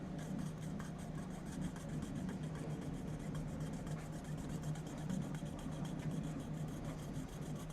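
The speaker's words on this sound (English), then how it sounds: "Let's bust out the saw." Steady rhythmic rasping of a saw cutting through material, quiet and continuous with rapid back-and-forth strokes.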